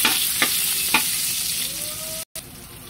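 Chicken and garlic fry in a pan with a continuous near sizzle, a few sharp stirring scrapes early on, and a brief dropout near the end before the sizzling resumes.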